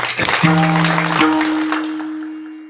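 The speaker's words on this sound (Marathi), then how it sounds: "त्यांच्यासाठी एकदा टाळ्या होतो." At a kirtan performance, an audience claps for the mridang player in a brief burst that fades away while steady sustained musical tones ring on underneath and carry past the end of the clapping.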